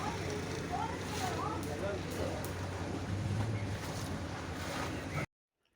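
An ordinary motorboat rides across open water near a houseboat area, with a steady engine drone, wind buffeting and water rushing continuously before the sound cuts off abruptly near the end.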